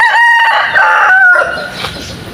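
Chickens in a rain-soaked home garden give a loud, close call lasting about two seconds, with bright, strained tones that fade into the background.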